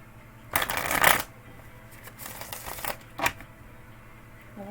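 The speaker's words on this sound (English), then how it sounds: "Well, that's a nice smooth shuffle." Playing cards riffle-shuffled in a few short bursts, a long rapid flutter followed by two quicker ones, close up against a quiet room.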